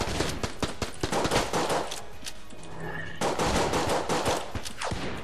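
Rapid gunfire in the bullet-hell game Enter the Gungeon, sharp crackling shots in quick bursts, paused briefly in the middle before the volley resumes, loud and close.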